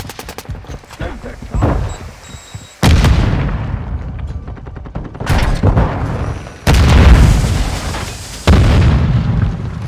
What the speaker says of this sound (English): Frag out! Grenade!